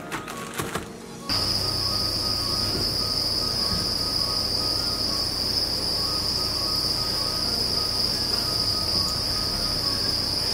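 Crickets chirp in a dense, steady, unbroken chorus that holds at an even level throughout, with a brief rougher burst of noise at the very start.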